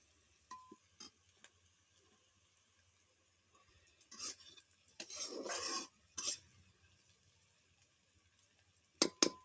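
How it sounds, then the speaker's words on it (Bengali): Fried food is scooped out of an oil-filled pan in a home kitchen: sparse metal spatula clinks and scrapes, a short sizzling burst mid-clip, and a sharp clatter at the end. "ফাইনালি ভাজা তুলে নিয়েছি"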